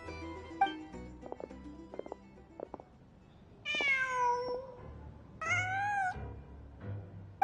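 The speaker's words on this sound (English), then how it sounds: "Just a cat." A cat in Genshin Impact meows twice, two drawn-out, wavering cries standing clearly over a quiet bed of game ambience and faint musical tones.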